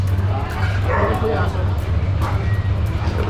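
A dog in a roadside cage yips and barks repeatedly amid street noise and a low engine rumble, with people talking over it.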